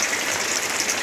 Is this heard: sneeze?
no